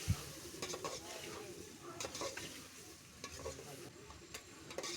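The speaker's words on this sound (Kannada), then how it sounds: "ಇವಾಗ ಚೆನ್ನಾಗಿ ಫ್ರೈ ಮಾಡ್ಕೊಳ್ಳಿ ಅದರಲ್ಲಿ" Boti (tripe) frying for curry in a pan, a steady crackling sizzle with repeated scraping stirs of a spoon against the metal, close and fairly loud, no voices.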